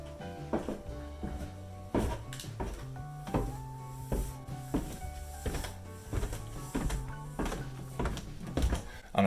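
Footsteps climbing squeaky wooden stairs indoors, a steady series of thuds roughly every half second, each paired with creaking, tonal groans from the treads, close and fairly loud with no talking.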